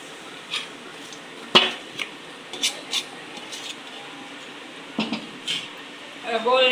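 Jaggery tipped into a pan for black sesame laddu and stirred, giving intermittent clinks and scrapes of a utensil against the pan with a faint sizzle underneath and a brief scraping burst at the end.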